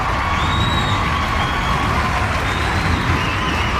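A crowd clapping and cheering as a sound effect, a dense, continuous wash of applause with shouts and whoops layered on top throughout.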